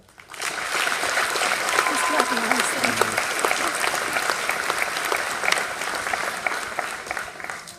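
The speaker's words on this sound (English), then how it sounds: "a round of applause for this fantastic Falcon" Audience applause at a 2015 high school graduation as the valedictorian is introduced, a loud, even roar of clapping that swells in quickly and carries on, with scattered voices in the crowd.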